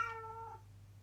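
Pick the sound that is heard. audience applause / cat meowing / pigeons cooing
cat meowing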